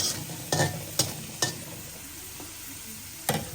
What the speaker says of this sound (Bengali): পেঁয়াজ কেটে দেওয়া ভাজা হয়ে গেছে